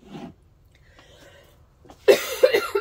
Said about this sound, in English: I still got that pesky cough.